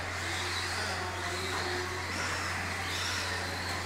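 Vintage two-wheel-drive RC buggies with 17.5 stock motors race around a track, their electric motors giving a steady, faint whine over a constant low hum, with no talk.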